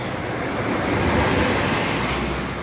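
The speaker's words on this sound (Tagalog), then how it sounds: "nag-start na gid siya og ulan" Steady, dense hiss of heavy rain pours without pause, loud and close, filling the whole stretch with no voices.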